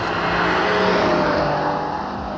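A Ferrari 12Cilindri's 830-horsepower V12, revving toward 9500 rpm, gives a loud, continuous, high-pitched scream with a rising and falling tone as it passes close, and no voices are heard.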